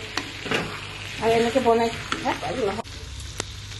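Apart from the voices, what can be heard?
mutton liver frying in a pan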